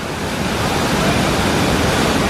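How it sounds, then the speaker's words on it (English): River rafts pass through churning water at Disney California Adventure, sending up a steady, loud rush of splashing and spray that fills the scene without a break and with no voices. "when the rafts come by, they hit in just a way, or such a way, that they knock a bunch more water out here"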